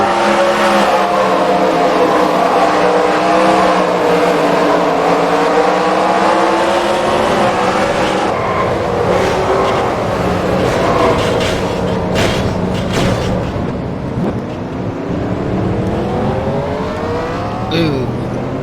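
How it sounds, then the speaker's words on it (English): Stock-car racing engine at Bristol Motor Speedway roars loud and close, pitch sweeping up and down through gear changes and downshifts, with other cars audible nearby and a voice talking over it. "You can see Dalton downshifting"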